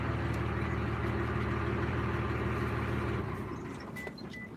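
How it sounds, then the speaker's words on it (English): A loud truck engine idles close by in West Virginia, a steady low diesel rumble that drops away after a few seconds, leaving quieter background noise with faint small clicks. "Sorry, that truck is really loud."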